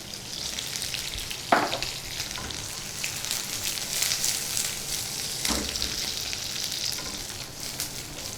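Chilies, garlic and onions fry on a high flame with a steady, loud broadband sizzle throughout, broken by a couple of brief stirring clatters near the start and middle, with no voices.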